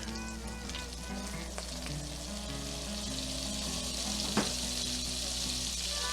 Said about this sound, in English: We're going to get the butter in.